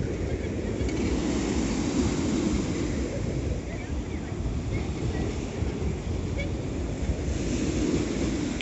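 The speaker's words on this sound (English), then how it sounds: "So just a quick update on the waves." Sea waves surge and roar continuously at the end of Blackpool Central Pier in February, mixed with buffeting wind against the microphone.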